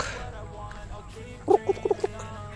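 Several short clucks from chickens in quick succession, fairly close, over a low background hum.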